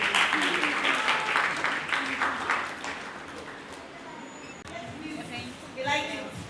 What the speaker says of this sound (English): Please let's clap for you.